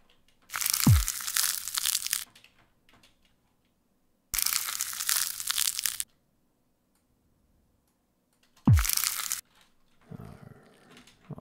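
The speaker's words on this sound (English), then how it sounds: "it's gonna be a very short little egg sound" Three short crunchy cracks of an egg-breaking sound effect for the video game Monster Sanctuary, each a brief crumbly burst with a quick fade, separated by silence, followed by a softer tonal blip.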